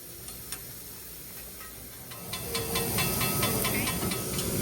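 Steam hisses off a hibachi grill as onion is cooked in a Japanese steakhouse, a soft broadband hiss swelling louder midway, dotted with faint ticks and clicks.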